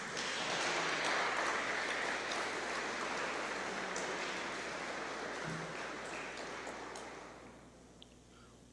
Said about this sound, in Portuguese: Você dá uma salva de palmas para Jesus?